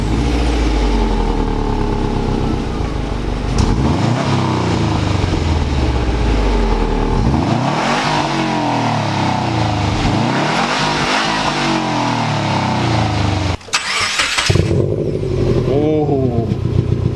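Subaru WRX fitted with a catback exhaust starts and revs repeatedly, loud and close, each rise and fall of the engine clearly heard with voices in the background.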